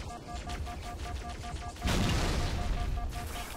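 Frag grenade blasts and rattling gunfire in the Halo 2 campaign, dense bursts of shots and a louder surge of booming explosion midway, crowding the mix with no voices.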